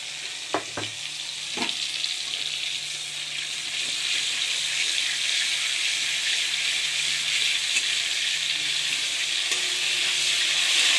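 Panch phoron spices fry in hot oil with prawns, a steady close sizzle that builds and holds throughout, with a few sharp clicks near the start.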